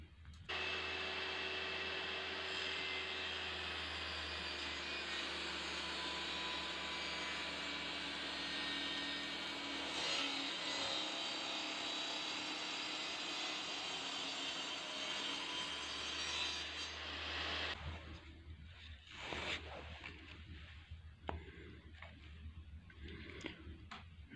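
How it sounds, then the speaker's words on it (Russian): Circular saw fitted with a Stayer 254 mm 60-tooth blade ripping wood along the grain, a loud steady high whine with cutting rasp for about seventeen seconds, then the motor stops and scattered handling clatter follows. "Ну вот вдоль волокон вот такой вот пил получается."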